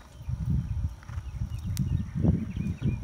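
Muffled hoofbeats of a horse moving around a show ring, a steady low thudding rhythm heard up close with no talk over it.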